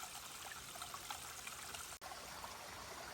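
A small stream trickles through a little canyon along the Appalachian Trail, giving a steady, soft, close wash of running water that carries on throughout with no voices.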